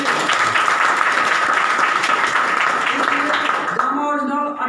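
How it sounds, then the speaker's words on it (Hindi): An audience at a seminar applauds with a dense, steady burst of many hands clapping, loud and sustained for about four seconds before trailing off into a voice. "ताली हो सकता है इसके लिए।"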